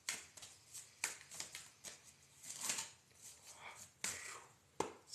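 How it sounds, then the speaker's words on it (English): A tarot deck is shuffled and cut close by, producing soft, irregular riffling and tapping card sounds that stay quiet throughout. "We cut the deck, clear the energy. We continue shuffling."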